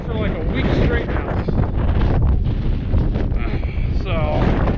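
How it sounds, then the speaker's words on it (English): Strong wind batters the microphone outdoors in a steady, loud roar that covers the whole stretch, with gusty rumbling throughout and no clear speech. "This wind is terrible."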